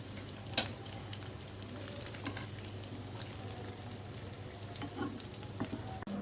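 Chicken pieces fry gently on low heat, giving a faint, even crackle with scattered soft pops. One brief clatter rings out near the start, and there is no talking.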